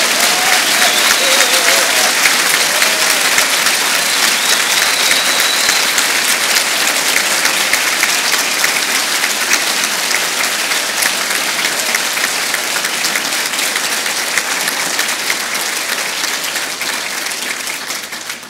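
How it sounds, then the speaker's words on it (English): Loud, sustained applause from a large audience honouring graduates at a conferring ceremony at the Institute of Technology Tralee in 2018, with dense, steady clapping for the full length and a slight fade near the end. "I would now ask you to give a round of applause to all the graduates and all the other graduates who also conferred today."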